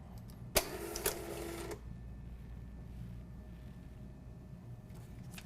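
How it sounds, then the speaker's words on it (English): A check scanner feeding and scanning a check gives a single whirring mechanical run of about a second, then settles to a faint steady hum. "Once it's amber, you know that you're ready to scan."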